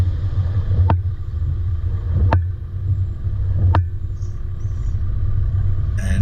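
A vehicle rumbles along a dirt track at night, a steady low engine drone close to the listener, punctuated by three sharp knocks or jolts at regular intervals from the rough ground.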